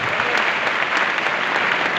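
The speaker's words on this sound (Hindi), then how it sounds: "तालियां बजाने के लिए तैयार हो जाओ गाइस।" Audience applause at a distributor anniversary event, a dense, steady clapping that fills the whole stretch without a break.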